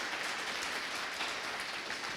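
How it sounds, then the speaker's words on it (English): An audience at a philanthropy grant finalists presentation applauds, a soft, distant-sounding hiss of many hands clapping that stays even and quiet throughout. "let's give another round of applause for the grant finalists."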